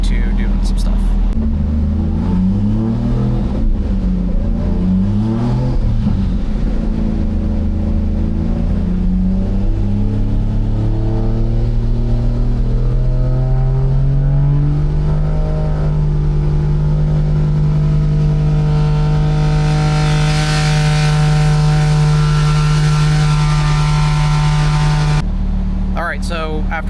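A Toyota JZX90 with a turbocharged fixed-timing JZ engine runs loud on a dyno under steady-state tuning, its note climbing in stepped holds and then rising in pitch before cutting off near the end.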